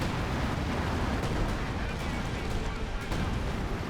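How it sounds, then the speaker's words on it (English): Artillery shells pound a howitzer position in Company of Heroes 2, a dense, continuous roar of blasts and rumbling impacts layered thickly with no clear gaps, loud and close throughout. "They also have artillery hitting the howitzers."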